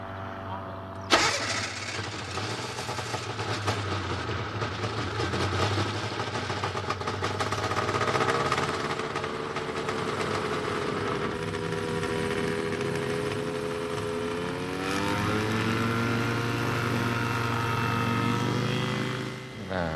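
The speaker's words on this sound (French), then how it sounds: "On regarde autour de la machine avant de mettre l'hélice en marche." Small ultralight aircraft's propeller engine sputters to life and settles into a loud, steady drone that holds throughout, with a slight rise in pitch near the end as it runs up.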